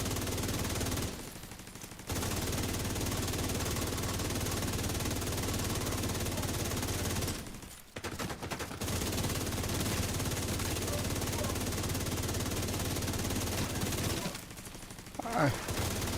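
Sustained automatic gunfire from The Division 2 video game, dense and loud for most of the stretch, broken by a few short pauses between bursts.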